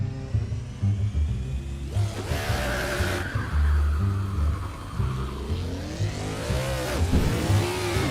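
A car engine revs hard in the racing game Skorost 2 while the tires squeal through a drift, rising and falling engine whines and loud, continuous tire noise.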